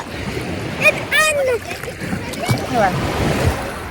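A child splashes and plays in the shallow lake water at Point Pelee in Canada, with irregular nearby splashes and sloshing under voices talking throughout.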